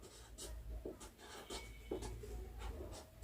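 A pen writes a size number inside a paper mold for a Peshwai pagadi turban, faint close scratchy strokes in short separate bursts with brief pauses between them.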